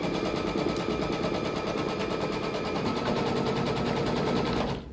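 An embroidery machine stitches through thick fabric, its needle hammering in a fast, steady rapid-fire rhythm, loud and close, before stopping abruptly at the end.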